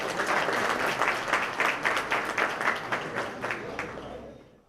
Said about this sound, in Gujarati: તો પુનઃ એકવાર આપણે તાળીઓથી વધાવીએ.